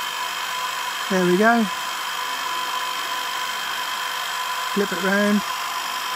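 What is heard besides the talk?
Bosch heat gun shrinking sleeve on 18650 cell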